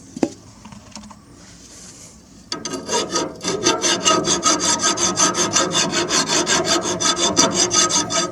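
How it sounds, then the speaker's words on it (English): A hand file rasps across a bearing spindle, taking down raised burrs. After a few light scrapes it settles into a loud, steady back-and-forth rhythm of strokes, close to the microphone. "I got to file down those mountains first. Good news, I got the file right here."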